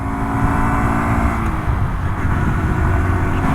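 A Honda DAX 125 motorcycle engine runs steadily while being ridden and downshifted, giving a continuous close, loud buzzing drone with slight shifts in pitch and no voices.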